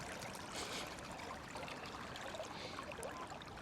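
A DJI Neo drone being rinsed in a river, with steady trickling and splashing water running throughout, fairly faint and close, with no talking.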